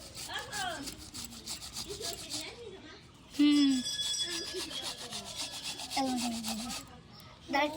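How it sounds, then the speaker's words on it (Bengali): Mangoes scraped across a grater in a village kitchen, a quick regular rasping rhythm with a brief pause midway, while voices talk over it. "তো এখানটায় আম ঘষা আমাদের শুরু হয়ে গেছে।"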